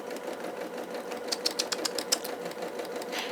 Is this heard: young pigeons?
no